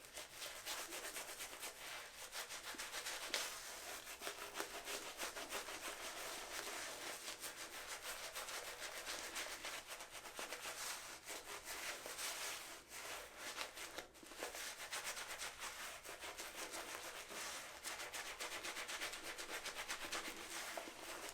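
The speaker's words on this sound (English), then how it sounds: "I have to really push it in to get it to splay and scrub" A Shavemac shaving brush pushed hard and scrubbed into Azalea City Suds Fresh Cut Timber soap in a Genesis base, giving a steady, close, bristly rubbing hiss that runs continuously with no talking.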